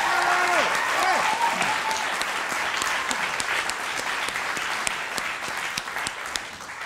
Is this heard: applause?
yes